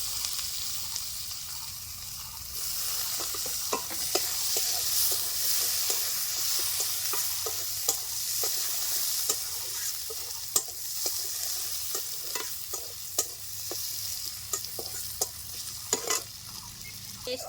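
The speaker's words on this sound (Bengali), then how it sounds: "পেঁয়াজটা ভাজা ভাজা হয়ে আসছে," Chopped onion fries with ginger and bay leaf in hot oil, a constant soft sizzle broken by repeated spoon scrapes and taps against the pan over a long stretch.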